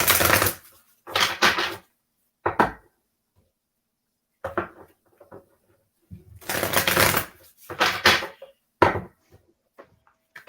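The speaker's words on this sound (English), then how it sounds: "Sorry for all the shuffling noise." Several close bursts of card shuffling, riffling rapidly in short bursts separated by quiet pauses, with faint scattered handling noises.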